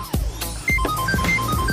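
A telephone rings during an Indonesian TV drama scene, giving repeated short electronic ringtone chirps over low background sound and faint thuds.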